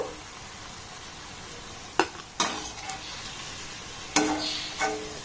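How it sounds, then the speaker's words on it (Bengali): Mango and semolina sweets frying in oil, hissing in a steady close sizzle broken by a few clattering strokes of a spoon against the pan. "দেখুন এগুলোকে আমি কত সুন্দর করে ভেজে নিয়েছি"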